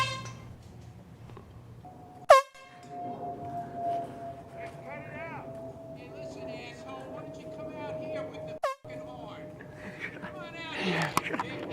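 An air horn sounds out on a golf course with a long sustained blast starting after two sharp bursts, while several people talk and laugh over it.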